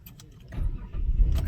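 A car's ignition is turned on in a vehicle with an MPI engine and a fault that leaves the instrument cluster blank. A short, close mechanical rustle and rumble builds over about a second and a half, with a faint key-like jingle.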